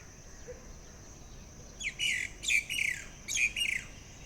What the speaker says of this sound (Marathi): ती वेगळे वेगळे आवाज काढते ढँचू ढँचू पण म्हणते आणि चुकलं चुकलं पण म्हणते